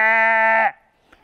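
A human voice imitates a sheep bleating: one sustained, nasal, buzzy bleat held for about two-thirds of a second, close and loud, then cut off into near silence.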